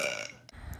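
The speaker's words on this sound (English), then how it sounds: "Oh wait, I have to fart." A short, comic fart sound in an edited cartoon parody, one brief rough, throaty blast fading out, with no talk.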